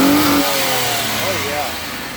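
A 3.4-liter Monte Carlo engine revs hard, its note rising and falling in loud, sustained bursts with a voice speaking over the roar.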